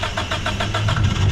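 A passing car on a road in the background, heard during work on a Talon TSi project car, makes a steady mid-pitched engine drone with a rhythmic pulsing, fairly loud and continuous for the whole moment.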